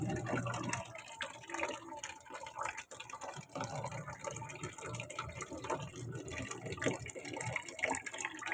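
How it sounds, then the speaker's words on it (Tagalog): A weak trickle of tap water runs into a washing machine, a faint, uneven splashing and gurgling that carries on steadily without speech. "kasi mahina ang tulo ng tubig ngayon"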